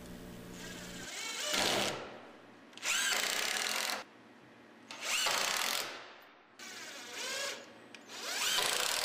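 Power drill driving screws into a small deck framing board beside a joist, four loud close bursts of high whirring each lasting about a second or two, separated by short quiet pauses.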